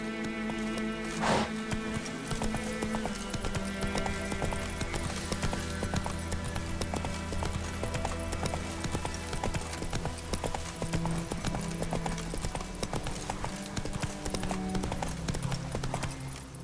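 A horse gallops in the video game The Witcher 3: Wild Hunt, its hoofbeats a steady, close clip-clop that runs the whole time over a constant bed of game music and ambience.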